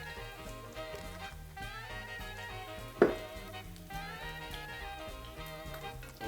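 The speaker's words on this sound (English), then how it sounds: "Even throw oil on the top." Empanadas frying in generous oil in a pan give a soft, steady sizzle beneath background music, with one sharp clatter partway through.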